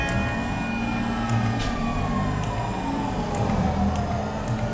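Police car sirens wailing in the video game GTA 5 Online, a steady sweeping tone over a continuous engine rumble, loud and persistent throughout with no talking.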